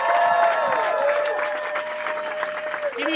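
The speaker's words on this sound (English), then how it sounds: "Start clapping right now for Tommy McNamara, everybody" An audience at a stand-up comedy showcase applauds loudly for a comedian, steady clapping with some cheering. A voice speaks over the clapping, which fades slightly toward the end.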